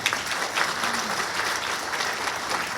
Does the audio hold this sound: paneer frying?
no